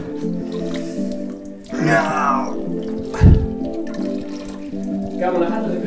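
A drink is poured into a glass at a casual evening gathering among friends, a splashy gurgling pour with a brief clink, heard close alongside talk and background chatter.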